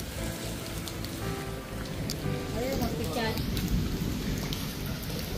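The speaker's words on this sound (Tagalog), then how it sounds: "Kasi nga po ay umuulan." Steady rain pours down, with the low rumble of thunder rolling through in a rural area in the Philippines. The downpour stays dense and continuous for the whole span.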